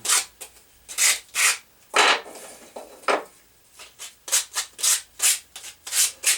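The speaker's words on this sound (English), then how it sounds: "Just a piece of sandpaper and just brush off any little fuzzies that the saw might make." A piece of sandpaper rubs over sawn wood, smoothing off fuzz left by the saw: close, rhythmic scratchy strokes in quick back-and-forth bursts with brief gaps.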